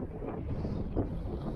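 Steady gusty wind buffets the microphone outdoors beside an airfield in Northumberland, a low, rumbling rush with a slight swell midway and no voices.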